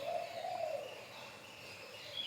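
A Javan grey-throated white-eye calling nearby, a few clear whistled notes at the start followed by fainter chirps over a quiet outdoor background.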